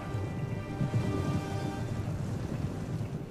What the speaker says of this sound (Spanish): Y ahora que les sigan lloviendo flechas